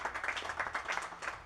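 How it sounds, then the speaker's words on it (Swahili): A small crowd claps at a WEREC association gathering in Mombasa, a quick flurry of overlapping hand claps, fairly faint and steady, lasting a moment. "Ijipigieni makofi."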